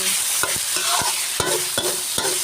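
Pork stir-fried with fragrant fried garlic in a hot pan, sizzling under repeated spatula scrapes and clacks that land about every half second, close and fairly loud, with no talking.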